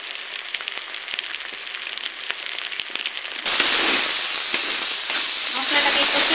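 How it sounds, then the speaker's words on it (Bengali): Turmeric and chili powder frying in hot oil, a steady sizzle that jumps suddenly louder and denser halfway through, close and continuous with no talk. "মশলাটাকে কষে নেব।"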